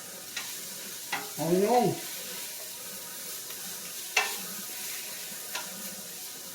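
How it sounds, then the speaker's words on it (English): A spoon stirs creamy Reuben soup in a cooking pot: a few sparse, soft scrapes and clinks spread out over a low steady background, with a brief spoken phrase early on. "With my spoon, let me stir my started soup here."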